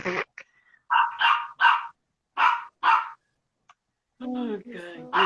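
Several sharp dog barks come in short bursts near the mic, followed by a voice talking.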